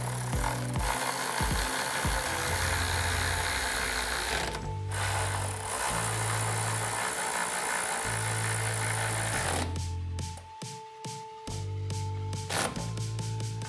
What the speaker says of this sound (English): And then we're gonna grab a ratchet with a 16 mil socket to get them tightened down.